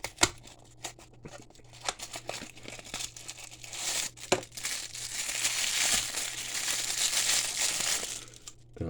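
Paper wrapping crinkling and tearing as a Matchbox Coast Guard toy car is unwrapped, close and continuous rustling with sharp snaps, growing denser toward the end.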